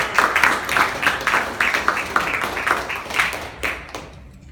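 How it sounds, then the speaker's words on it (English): Scattered hand claps from a small audience at a poetry open mike, fairly close and uneven, trailing off toward the end. "Let's give him a big round of applause."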